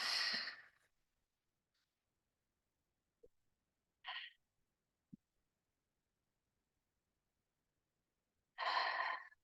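A person does slow, calming breathing with a lengthened exhale. Soft, airy breaths arrive several seconds apart, a few seconds of near silence sit between them, and there are faint small clicks.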